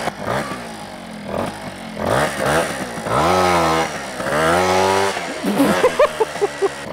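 Small moped engine revving hard through repeated rising and falling bursts during a wheelie attempt, loud and close, with buzzy harmonic whine climbing in pitch and brief throttle blips near the end.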